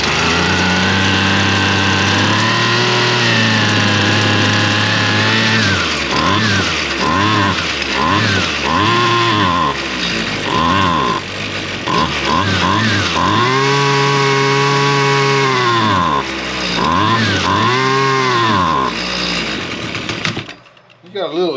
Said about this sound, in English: it did fire up, and it's definitely not staying running